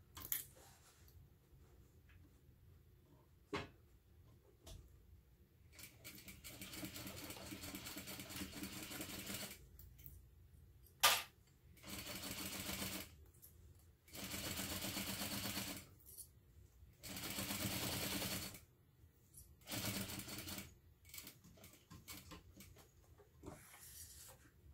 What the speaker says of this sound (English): So I'm going to start sewing right here.